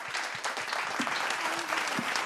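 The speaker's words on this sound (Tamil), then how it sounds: "இந்த சுற்றை தயார் செய்த இயக்குனருக்கு ஒரு கைத்தட்டு பாராட்டு" An audience at a quiz-style show claps for the director who prepared the round, a dense, even wash of many hands with faint voices murmuring underneath.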